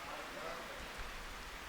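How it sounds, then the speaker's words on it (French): Rain falling and soaking the ground, a steady even hiss of drops at moderate distance, continuous with no distinct individual strikes. "Et voici la pluie qui tombe, arrose le sol."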